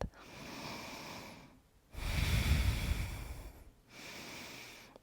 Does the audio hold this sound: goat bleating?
no